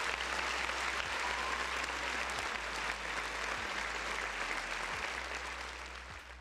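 A round of applause as a sound effect: a steady, dense crowd of clapping hands holding at an even level before trailing off slightly at the end, with no voices.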